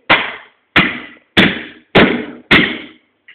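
A light hammer taps out dents in a crushed aluminium drink can, five loud, evenly spaced metallic knocks about half a second apart, each with a short ringing decay, followed by a faint final tap.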